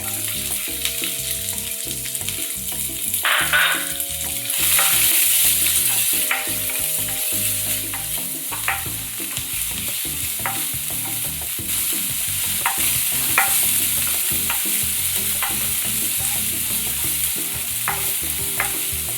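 Onion pieces fry in oil with cumin, a steady, loud, close sizzle that lasts throughout, with frequent small scraping stir sounds and light clicks on top and no talk.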